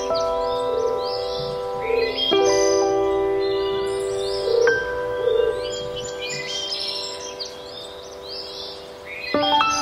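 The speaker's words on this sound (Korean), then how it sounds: "Dove." Birdsong from a children's bird flashcard, a dove call: repeated chirps and tweets over steady tonal music, clear and fairly loud throughout without speech.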